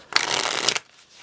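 A Bicycle Favole deck of playing cards gets one quick, close riffle shuffle, a loud dense burst of fluttering cards that stops abruptly after under a second.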